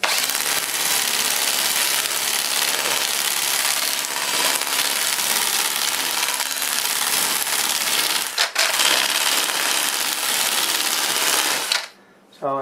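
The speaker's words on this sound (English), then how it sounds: "I'm going to take the Sandiflex and I'm going to clean that up there." Steady, loud abrasive rubbing of a Sandiflex sanding block against a heavy wood turning held on a locked lathe spindle, a continuous dense scrape with a brief dip midway before stopping near the end.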